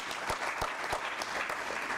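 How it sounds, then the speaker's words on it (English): Crowd applause at a press conference for a global entrepreneurship festival in Ghana, a brisk round of clapping with a few sharper individual claps standing out. "can we hear a loud round of applause for that?"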